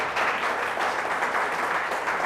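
A worship congregation applauds loudly in praise during a Hindi Christian church service, an even, continuous roar of many clapping hands that stays strong and close throughout, with no voices on top.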